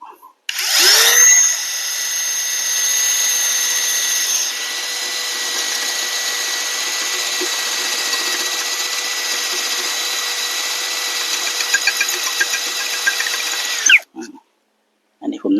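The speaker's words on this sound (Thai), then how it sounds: "เจาะปูนให้ดูนะครับ" A Yofidra brushless cordless drill bores into concrete in second gear, a loud steady whine that runs unbroken for about thirteen seconds, then stops abruptly, with only brief faint noises afterward.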